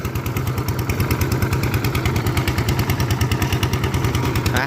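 A tractor engine chugs steadily up close in a rice field, its low rhythmic thumping and rattling continuing without a break.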